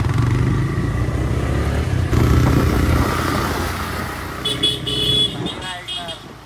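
Busy road traffic near Lonavala, with a constant rumble of cars and motorcycles and short horn toots toward the end, heard under people talking.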